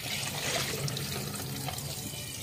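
Tap water running at home, cloudy from the faucet, a quiet, continuous splashing stream with faint gurgles and no speech over it.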